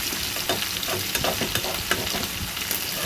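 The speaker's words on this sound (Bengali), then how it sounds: "এটা ভালো করে পেঁয়াজ আর টমেটোটা কালো জিরের সঙ্গে ভেজে নিই।" Onion and tomato fry with nigella seeds in a pan, producing a dense, loud, close sizzle with occasional stirring knocks throughout.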